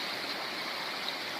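Mountain spring water from a village stream in Azad Kashmir flows steadily, a soft continuous rushing and trickling close by with no voices.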